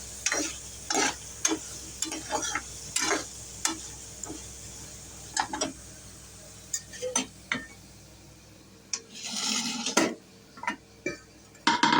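Radish sautéing in a pan for sambar, with repeated spoon scrapes and clinks against the metal over a soft steady sizzle, a busy irregular rhythm of close strokes.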